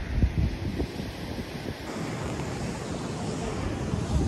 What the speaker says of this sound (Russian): Мы находимся в Дагестане, а именно в Махачкале. И это Каспийское море.